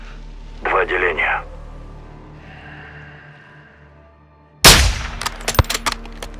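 A single sharp, loud sniper rifle gunshot in the video game Call of Duty: Modern Warfare 2 cracks out and echoes away, followed by a few quick clicks, with people talking in Russian before it.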